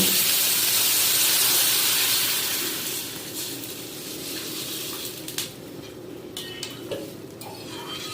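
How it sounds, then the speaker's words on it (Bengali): A rush of water hits a hot pan of fried lentils, hissing loudly at first, then fading into softer bubbling and a few utensil clinks. "এবারে আমি এর মধ্যে জল দিয়ে দেব।"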